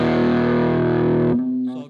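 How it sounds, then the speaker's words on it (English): Electric guitar played through a distortion overdrive effect, a sustained, thick, buzzing chord ringing loud and steady before cutting off, then a quieter tail of notes. "So I've got a little bit of distortion for overdrive."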